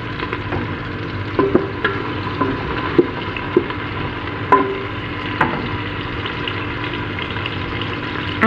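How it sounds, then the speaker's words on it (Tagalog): Chopped onions frying in a hot pan until golden brown, a steady close sizzle with occasional sharp pops and crackles and faint clinks of a utensil stirring throughout. "Golden brown lang po ang gagawin natin sa sibuyas."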